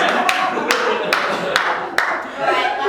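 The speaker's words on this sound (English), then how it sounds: "So you're going to be clapping once you hit 30." A group claps single sharp hand claps at a steady, roughly evenly spaced rhythm in a counting game at a youth leadership training day, with a murmur of voices underneath.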